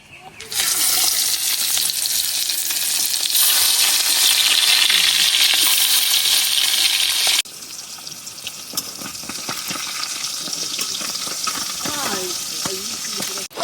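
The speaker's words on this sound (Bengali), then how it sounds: "এখন মাছগুলো হালকা বাজ্যা নিয়াম" Salt-and-turmeric-rubbed pabda fish fry lightly in a pan, giving a loud, steady sizzle that drops abruptly partway through to a softer, crackling hiss with faint scraping.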